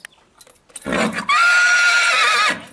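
A young colt gives a loud, close neigh that rises into a long, shrill whinny lasting about a second and a half, with no other sound around it.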